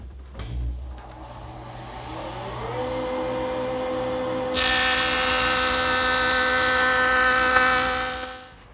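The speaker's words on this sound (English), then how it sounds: "I'm going to make one pass over the joiner, a 1/32 of an inch on each edge" A large wooden panel's edge is run over a jointer, set with a magnetic featherboard, taking a 1/32-inch pass. A steady motor whine rises to speed, then the cutterhead bites in with a louder, brighter hiss and ends tapering off.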